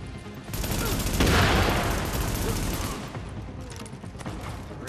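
Gunfire in Tom Clancy's The Division, a dense, loud burst of shots building to a peak and then trailing into scattered, lighter rapid fire, with no talk over it.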